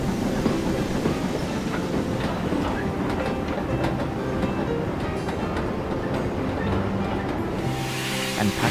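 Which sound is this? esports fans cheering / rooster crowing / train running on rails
train running on rails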